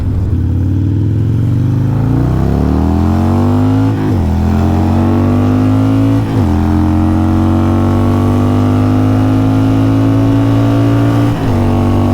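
A seatless motorcycle engine revs hard and climbs through the gears up to fourth, its loud, close drone rising in pitch with brief dips at each shift, with steady wind rush throughout.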